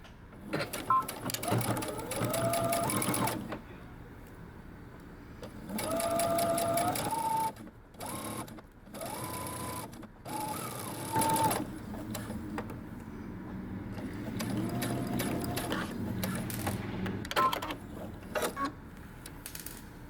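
Sewing machine stitching close to the edge of a dress in several runs of steady whirring, with pauses and soft handling sounds between them, close and moderately quiet, and a voice talking briefly.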